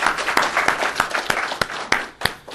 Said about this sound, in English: So if you'll join me in a round of applause for him.